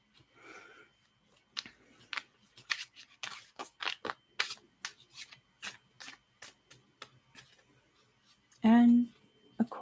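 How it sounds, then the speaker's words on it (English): Tarot cards are shuffled up close in a quiet ASMR setting, giving a run of crisp riffling snaps and flicks in an uneven rhythm that ends with a sharp thump. "while I shuffle the cards"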